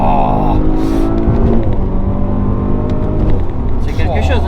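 A 600 hp Audi RS4 B9 estate accelerates hard with a loud, sustained engine roar that stays steady and close for the whole stretch.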